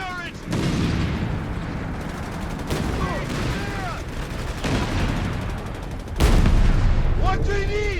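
Heavy gunfire and booming impacts in a Company of Heroes 3 battle as a tank comes under concentrated fire, with sharp bursts at the start and a loud blast near the end, under shouted voices.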